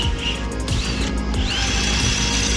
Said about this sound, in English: Now we're drilling the holes for the side engine mounts.